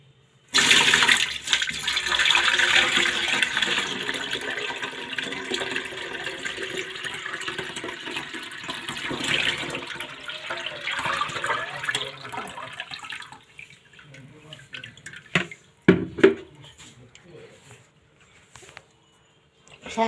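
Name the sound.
straining rotted mustard cake fertilizer liquid through a sieve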